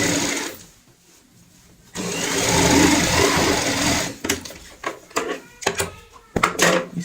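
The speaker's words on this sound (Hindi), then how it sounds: "अब हम इस सिलाई को यहाँ पे कंप्लीट कर लेंगे।" Hand stitching closes the cotton-stuffed cushion seam of a stool made from an old bucket, with a long close rush of thread and fabric rubbing followed by a string of short scratchy pulls and rustles.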